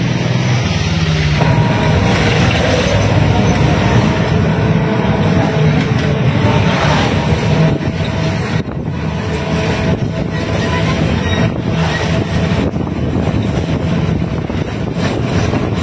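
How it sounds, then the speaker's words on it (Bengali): A moving e-rickshaw running alongside a train gives a loud, steady, continuous rumble of motion with wind buffeting throughout, and no voices. "আমরা একসাথে যাচ্ছি ট্রেনের সাথে,"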